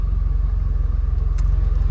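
A 1997 Porsche 993 Turbo S engine rumbles low and steady, its pulsing idle-to-launch drone loud and close with a brief higher whine near the end as it pulls away from a standstill.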